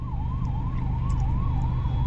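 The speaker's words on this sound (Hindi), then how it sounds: "एम्बुलेंस को जाने दो भाई।" Ambulance siren wailing through evening city traffic in Jaipur, a steady rising-and-falling tone cycling continuously over heavy low engine rumble, fairly loud and close.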